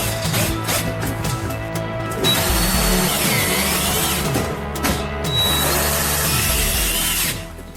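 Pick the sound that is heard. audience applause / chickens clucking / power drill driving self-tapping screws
power drill driving self-tapping screws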